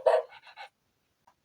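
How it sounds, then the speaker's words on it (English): A short recorded dog bark from a LeapFrog talking picture book, two quick panting yaps, loud and close, with a brief pause before another bark begins at the very end. "Dog."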